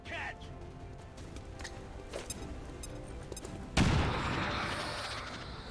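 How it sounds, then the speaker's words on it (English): A grenade blows up in XCOM 2 with one sudden loud boom that decays over a couple of seconds, following scattered game sounds and background voices. "Will you throw the grenade, please?"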